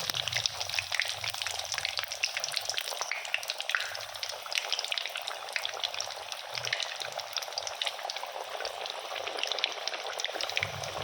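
Chicken cutlets fry slowly in shallow oil over low heat, giving a quiet, steady bubbling sizzle that never lets up and has no talking over it.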